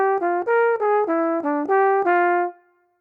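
A trombone plays a diminished dominant lick cell, eight separately tongued notes in an even rhythm, clear and close, ending with a held final note that fades away.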